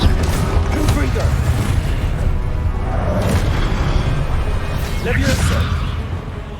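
Confringo spell blasts in the Hogwarts Legacy video game, a couple of booming bursts with whooshes over dense combat noise, partly under a shouted voice.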